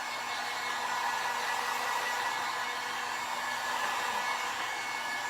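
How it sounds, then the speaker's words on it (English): A heat gun blows steadily at close range during a thrift store decor flip, a constant airy hiss and whoosh with no breaks. There is no talking. "I'm gonna hit this with the heat gun real quick."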